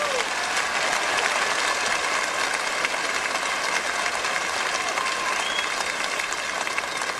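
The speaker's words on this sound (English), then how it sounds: "I appreciate that fine applause" Steady, dense applause from a studio audience welcoming a gospel singing family on an Atlanta television program, a continuous wash of many hands clapping at even loudness with no voices on top.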